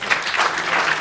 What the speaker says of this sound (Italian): Facciamo un applauso e speriamo che torni